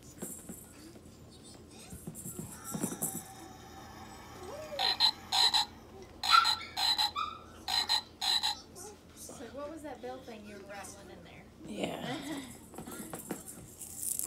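A frog toy croaking in a home with a litter of puppies, several short rasping croaks in quick bursts through the middle, with people talking and laughing around it.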